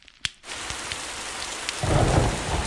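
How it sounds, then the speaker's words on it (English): Thunderstorm with steady rain pouring down, opening with a sharp nearby thunder crack over quiet, then a continuous loud wash of rainfall that swells heavier toward the end, with a low rumble of thunder rolling underneath. "storms raged as if the desert itself cried out in warning"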